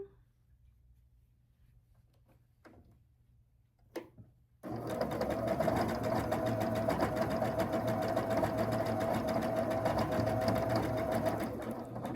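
A sewing machine stitches a quilt block, starting after a few quiet seconds of handling noise and then running continuously at a steady, close, rapid mechanical hum until the end.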